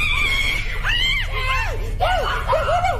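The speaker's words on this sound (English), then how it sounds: "The mom let out a loud scream, showing just how freaked out she was." A woman's shrill, wavering screams of fright rise and fall in several bursts over a low, steady background hum.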